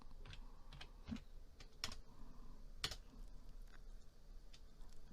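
Sparse keyboard clicks while entering data into accounting software: a few isolated key taps, one or two sharper strikes like an Enter press, over a quiet background hum without any speech.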